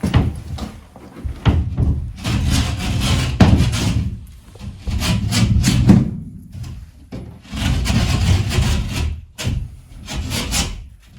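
Rasping, scraping strokes of a drywall panel edge being shaved down about an eighth of an inch, repeated in steady bursts up close and fairly loud, with brief pauses between passes and no talk.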